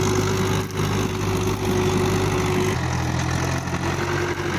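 A 1997-model Mahindra 475 DI tractor engine drones loudly and steadily while ploughing a field, its low throbbing hum continuous throughout with a slight change in tone partway through.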